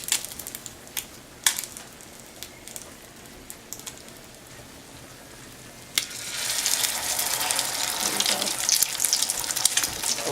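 Oil sizzles and crackles steadily as crab cakes fry in a pan with a little oil, with a few sharp pops, then the frying grows louder and fuller partway through.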